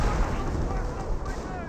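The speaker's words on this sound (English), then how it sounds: "Grenadier officer artillery now being brought on in." Artillery barrage booming on a battlefield in Company of Heroes, with continuous dense low rumbling blasts layered over each other, loud and sustained, while a commentator's voice is faintly present.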